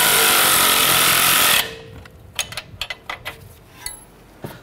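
Power tool drives down the sway bar end link nut on a 2009-2015 Honda Pilot during a front strut replacement, a loud steady whir for about a second and a half, followed by scattered metallic clicks and taps.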